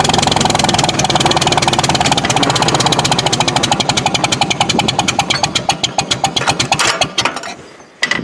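A Farmall tractor engine runs loud and close with a rough, pulsing idle, its firing beats steady at first, then turning more uneven and spaced out before stumbling near the end.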